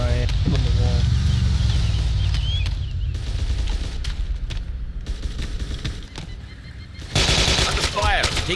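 Bursts of automatic gunfire and single shots crack through a military simulator firefight, loud and near, with booms and shouted voices mixed in and a sharp volley near the end.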